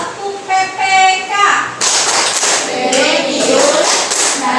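A school class chants the Tepuk PPK clapping routine: young voices chant in rhythm for a moment, then a burst of many hands clapping fills the room, loud and close.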